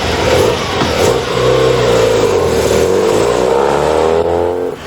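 A buzzy, high-revving rotary engine car accelerating loudly nearby, its pitch climbing through the gears in a steady, sustained roar.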